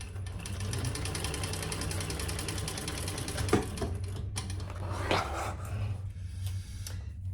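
A sewing machine runs a continuous row of stitches on a crossbody sling bag, a steady fast mechanical whirring held close, with a couple of brief knocks and no talk.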